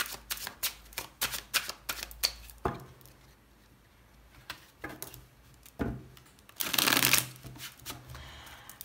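Rider-Waite tarot cards are shuffled close up in a rapid run of riffling flutters, then a pause and a longer, louder burst of card shuffling.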